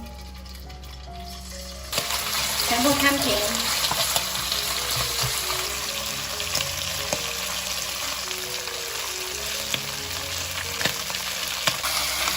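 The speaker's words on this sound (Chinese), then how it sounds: "把猪肝放进来煎" Pork liver hits hot oil in a pan with a sudden loud sizzle that settles into a steady, dense frying crackle. Occasional soft clicks sit under it, and a voice speaks briefly.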